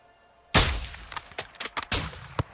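A single sniper rifle shot in Call of Duty Modern Warfare 2 cracks out loud and close, then rolls into a ringing tail as scattered metallic clinks and softer impacts follow.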